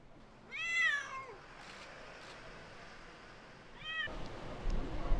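A street cat meows twice, a drawn-out wavering cry followed a few seconds later by a shorter one, fairly close against quiet background noise.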